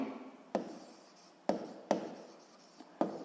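Chalk or a marker taps and scratches on a classroom board in short strokes with sharp starts, about five clear ones, soft and close in a quiet room.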